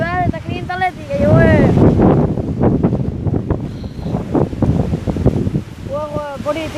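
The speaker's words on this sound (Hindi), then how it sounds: "तेज हवा चली खड़ी है ना आपको सा क्या देखो ये देखो तूफानी हवा है तूफानी हवा इतनी तेज हवा" A fierce storm wind roars and rumbles against the phone microphone outdoors, loud and continuous beneath someone speaking excitedly.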